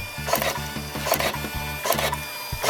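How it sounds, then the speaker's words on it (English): A Cab label printer runs off wire sleeves in a steady mechanical rhythm, with repeated short motor bursts and feed clicks, loud and close, with no talking. "It's going to print 20 of them."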